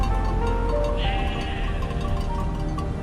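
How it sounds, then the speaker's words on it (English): Sheep bleat now and then over steady outdoor background noise, a flock grazing at moderate distance on volcanic slopes in Iceland. "Sheep roam freely across volcanic slopes, grazing among moss and stone."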